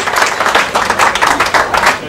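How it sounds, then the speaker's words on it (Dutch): Audience applause at an anniversary gathering of a first-aid association in Elburg, a steady wash of many hands clapping for about two seconds, fairly loud and even, with no voices over it. "applaus nog even één keer"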